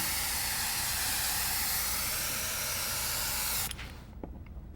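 Spray paint hisses from a can over a stencil in a long, steady, close burst, then cuts off abruptly, leaving a few faint short sprays and quiet handling noises.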